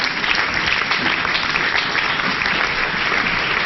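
A standing church congregation applauds and acclaims the Lord in loud, dense, continuous clapping that fills the hall steadily with no pauses and no speech.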